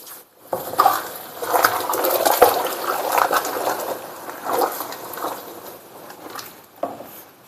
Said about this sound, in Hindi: देखो अब आप कितना उबल रहा है